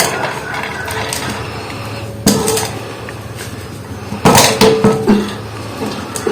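A metal lid clatters onto a biryani pot, with one sharp clank followed later by a louder cluster of rattling knocks as it settles, heard close up over a quiet kitchen background.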